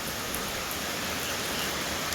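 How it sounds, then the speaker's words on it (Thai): Heavy daytime rain pours down in a dense, steady hiss that stays loud and constant throughout, with no voices. "นั่งเบิ่งฝนตก"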